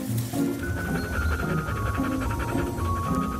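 A hunting dog panting rapidly after tug play, close and steady rhythmic breaths with a faint whimper, no talk.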